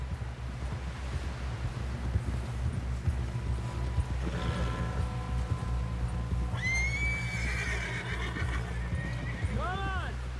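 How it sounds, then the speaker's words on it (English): A horse whinnies in Red Dead Redemption 2, two rising neighs late in the clip over steady clip-clop hoofbeats, wind noise and background game sound. "Someone help John down off this horse"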